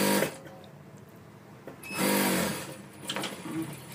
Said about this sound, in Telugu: దీనికి కూడా ఈ లాస్ట్ వరకు ఇలాగే ఒక కుట్టు అయితే వేసేసుకోండి